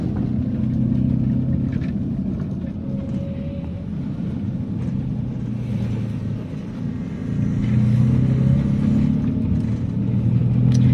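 Traffic passing on a muddy town road in Merauke, with cars rumbling by in a steady, fairly loud wash of engine noise and no talk.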